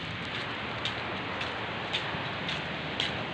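Steady rain hisses down in a dense, even wash at Hac Sa Beach in Macau, with a few louder drops or splashes popping out at intervals; no talking.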